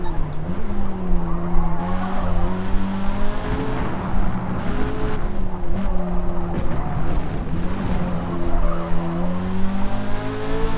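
A fast race car in Forza Motorsport roars with a steady engine whine that rises and falls through gear and speed changes while its tires squeal and skid almost continuously.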